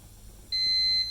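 A kitchen timer gives a single sustained high electronic beep right after being set, clear and close against a quiet room.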